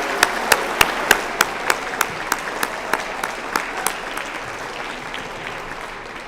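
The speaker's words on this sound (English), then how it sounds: "If we could just have one more round of applause for the Sabin Chamber Choirs." An audience at a youth citizenship awards ceremony applauds a chamber choir, a moderate crowd clapping with a few loud, evenly spaced individual claps standing out and gradually tapering.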